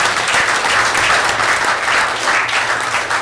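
Loud, sustained applause from a crowd at a city council meeting in Atwater, with many hands clapping steadily throughout.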